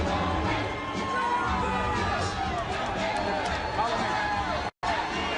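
Large arena crowd of about fourteen thousand gathered for a heavyweight boxing match, Evander Holyfield against Bert Cooper, a steady dense roar of cheering and babble with scattered whoops, continuous and loud with a brief dropout near the end.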